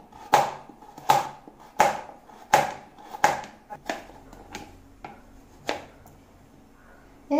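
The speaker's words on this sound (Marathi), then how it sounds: "हे सगळं स्लाइसमध्ये कट करून घ्यायचं." A knife cuts through peeled vegetables for a toast sandwich in a village kitchen, with about ten crisp, evenly spaced chops striking a board, close and clear, slowing toward the end.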